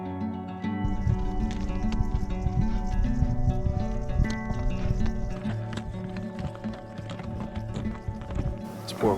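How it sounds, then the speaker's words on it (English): Hooves of four pack horses clip-clop steadily up a high mountain trail above a river in Azerbaijan, a close, continuous uneven clatter of footfalls with faint creaks of gear throughout. "It's 4 horses."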